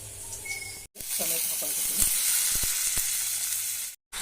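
Onions and tomatoes sizzle in hot tempering oil for a sambar: a continuous close hiss with a few clicks of stirring against the pan, briefly cut off twice.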